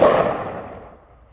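A single .223 rifle shot firing an Ammo Inc frangible round, one sharp loud crack with a short echoing decay fading out over about a second, no voice.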